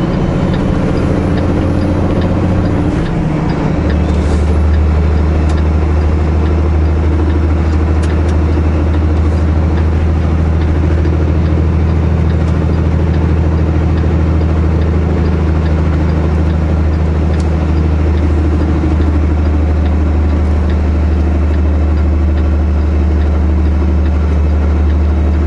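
A truck's diesel engine runs steadily with the engine brake switched off, a loud, close low drone holding a constant pitch for the whole stretch after a brief shift in tone near the start, with no talk over it.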